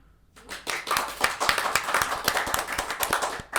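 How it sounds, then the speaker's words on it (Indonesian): A small group claps together for a few seconds after a casual chat among students, the dense patter of hands starting abruptly, staying steady and close, and stopping sharply. "Kalian mau tepuk tangan?"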